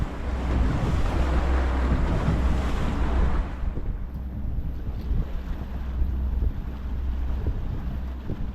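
A fishing boat trolls at about 5 knots on the open sea off the West Coast, giving a steady, close wash of water and engine rumble, with wind buffeting the microphone and no talk.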